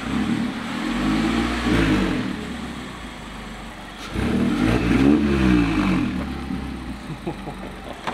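A Mazda Miata with a new aftermarket exhaust revs hard twice with a deep, throaty exhaust roar, easing back to a rumbling idle between pulls, close by.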